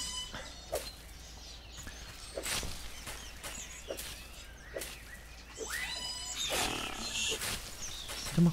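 A monkey in the jungle of the video game Force of Nature gives repeated harsh, growling cries and roaring calls, several separate outbursts rising and falling over a busy background.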